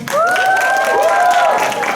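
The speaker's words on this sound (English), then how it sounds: "Lots of clapping." A school audience at a house science quiz bursts into a short, loud round of clapping, with a bright whistle-like tone sweeping across the top of the applause.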